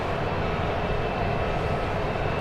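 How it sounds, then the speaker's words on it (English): A Southwest Boeing 737 Max 8 passes at Dallas Love Field with a steady, loud jet roar and broad rumbling engine noise that holds constant throughout. "I hear another Southwest plane."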